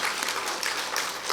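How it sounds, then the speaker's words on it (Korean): A church congregation claps together in steady, dense applause, filling the room without any voices. "우리 목사님께 박수로 축복드리겠습니다."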